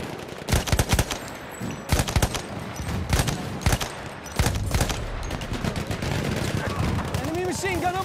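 An enemy machine gun rattles out repeated sharp bursts in a military shooter, loud and close, followed by denser sustained fire with voices heard faintly underneath.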